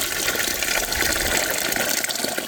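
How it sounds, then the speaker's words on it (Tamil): Water poured into a pan for mushroom thalcha curry makes a steady, continuous gushing splash, close and fairly loud, with no talking. "தால்ச்சாவுக்கு தேவையான அளவு தண்ணிங்க."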